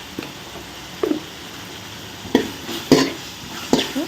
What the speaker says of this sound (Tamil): தக்காளிக்குள்ள நல்லா ஒரு ரெண்டு நிமிஷம் வதங்கட்டு